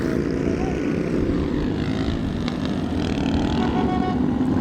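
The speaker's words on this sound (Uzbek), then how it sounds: "samolyot" A propeller airplane drones steadily at an international airport, its broad engine rumble constant and fairly loud throughout with faint background noise mixed in.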